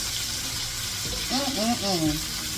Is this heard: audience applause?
no